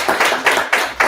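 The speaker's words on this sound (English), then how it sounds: "you can clap" A meetup audience applauding an introduction, dense continuous clapping in rhythmic surges, loud and close, with no talking.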